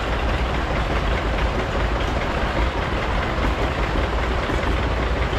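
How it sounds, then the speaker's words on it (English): A 1952 John Deere Diesel R plow tractor runs in an antique power parade at a steam power show in Sycamore, Illinois, its engine a loud, continuous low rumble with clattering, heard nearby throughout. "here's the big brother, the John Deere Diesel R. This is a 1952."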